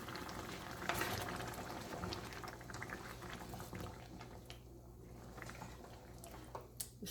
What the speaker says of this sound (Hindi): इसको भून लेंगे